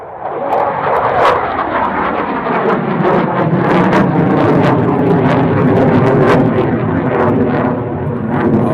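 Aircraft in a flying display at an air show roar loudly overhead, a broad, rumbling engine noise that holds steady throughout with sharp crackles on top and no voices.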